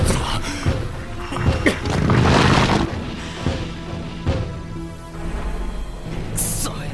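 Jeep blowing up in an anime action scene, a burst of crashing, booming explosion noise with debris and rumble, mixed with other action sound effects and short vocal outbursts.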